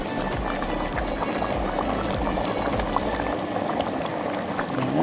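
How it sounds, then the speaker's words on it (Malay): Golden pomfret pieces go into a simmering Mamak-style fish curry, and the pot bubbles and burbles steadily throughout, close and fairly loud, with liquid sloshing faintly and no talk. "dah kata Roger dah boleh masuk ikan so saya masukkan ikan okey masukkan ikan"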